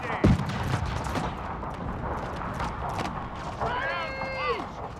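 Musket volleys in a Total War Carlist War mod battle, scattered cracking shots over a dense battlefield din, with a prominent report near the start and a horn-like call later.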